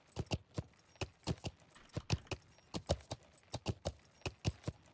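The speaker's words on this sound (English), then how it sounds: "Somebody on a horse out west?" A lone horse's hooves clip-clop across the ground in a video game, a brisk, steady run of paired hoof strikes repeating without pause, fairly close and with no talk over it.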